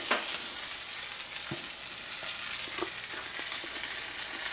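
Cajun-seasoned tilapia sautés in a pan with a steady, close sizzle and crackle, with small spits and pops scattered throughout.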